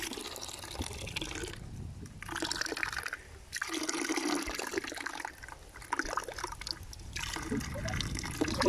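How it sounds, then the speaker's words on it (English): Water from the outlet of a PA13 Bunyip water-powered pump near Tarzali on the Atherton Tablelands pours steadily into a tank, a continuous close trickling splash with some background noise throughout. "This is the output for this PA13 Bunyip pump near Tarzali on the outer and tablelands."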